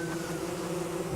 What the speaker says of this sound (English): let's go see if we got another bee spawning